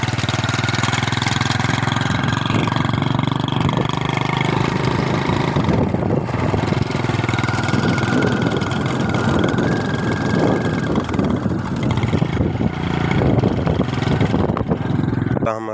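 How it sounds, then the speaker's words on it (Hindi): Motorcycle engine droning steadily while riding along a village road with a passenger on the back, loud and continuous with wind and road rumble throughout. "बाइक आज मेरा भाई चला रहा है, मैं पीछे इसके बैठा हूँ"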